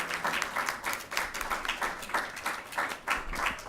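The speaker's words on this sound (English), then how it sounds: "Let's give them a round of applause." An audience applauds presenters at a community event on Asian American giving, a brief burst of steady, moderately loud clapping from a room of people.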